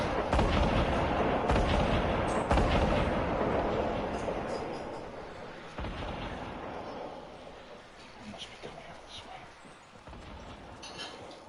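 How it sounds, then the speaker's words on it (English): Rocket launcher explosions in a video game match, heavy booming blasts thundering densely at the start, then thinning into scattered rumbling bursts and distant crackle as the fight continues. "People using rocket launchers to..."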